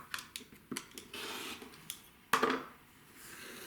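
Scissors or a cutter snip through quilting fabric while a 2-inch square is trimmed, giving a few quiet, sharp cutting clicks with one stronger snip near the middle.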